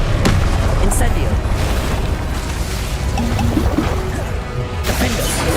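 Incendio fire spell cast in Hogwarts Legacy, a dense, loud roaring blast that runs unbroken through the whole stretch, crowded with other game effects and a faint voice underneath.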